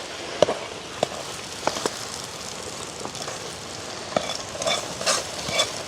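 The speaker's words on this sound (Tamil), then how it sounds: "அப்படியே நல்ல வடிவாக கலந்து விடுவோம்." Tempered mustard and fennel seeds being stirred into kootanchoru, a mixed rice dish, in a pot: a steady soft sizzle with scraping stirs and a few sharp clinks of the spoon against the pot.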